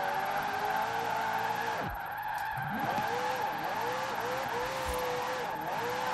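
Car engine revving high and holding near the limiter while tyres squeal and skid through drifting corners in Forza Horizon 4, loud and continuous, with pitch sweeping down and back up across gear changes.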